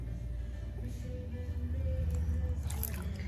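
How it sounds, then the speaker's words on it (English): Wet clay is compressed on a spinning pottery wheel while excess water is squeezed from its outer wall, giving a soft, continuous squishing and dripping that sits low and steady under a faint wheel hum. "get this excess water out of the outside and compress it a little"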